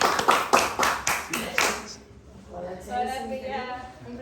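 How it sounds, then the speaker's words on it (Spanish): A small group claps briskly and close for about two seconds to welcome an arriving aunt, then the clapping stops and a voice talks. "¡Aplausos, aplausos!"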